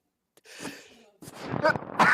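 A single sneeze bursts out partway through, with brief breathy sounds before it and people speaking around it.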